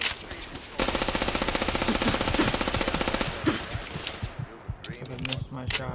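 Gunshots in the post-apocalyptic game Fallout 4: a rapid, evenly spaced burst of automatic fire lasting a few seconds, followed by scattered single shots and clatter, with someone talking at points.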